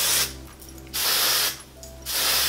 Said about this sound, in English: I'm gonna add some dry texture spray by Moroccan oil to it.